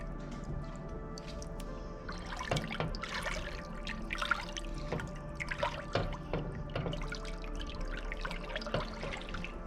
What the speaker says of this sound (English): So I'm draining the rest of the limoncello out of the lemon skins